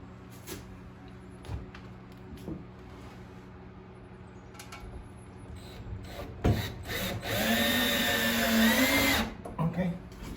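A power drill drives screws into an electrical box during rough wiring of a shop, with a short whir followed by a longer, louder whine of about two seconds, close by, and a voice speaking around it.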